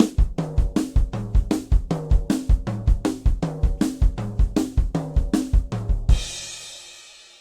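A drum fill played up to speed: a fast, steady run of about two dozen punchy drum strokes, loud and close, ending on a crash cymbal that rings out and fades. No voices.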